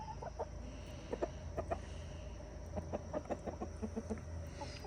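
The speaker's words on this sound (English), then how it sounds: "You chickens have eaten so much of the grass in here." Backyard chickens cluck softly in their run, scattered short calls coming in irregular bursts over a low steady hum, fairly close.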